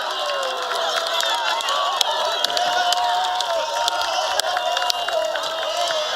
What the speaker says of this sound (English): The crowd at Harrington erupts as Western Washington has stolen a last-minute winner